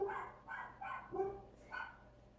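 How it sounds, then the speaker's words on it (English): Dogs barking somewhere near a home, a run of five rhythmic barks spaced about half a second apart, moderately loud and clear with no talk over them. "The dogs are barking."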